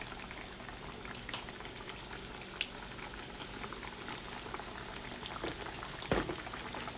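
Green tomatoes fry in a pan of hot oil with a steady, busy bubbling hiss that runs throughout, plus one sharper burst near the end; no one speaks.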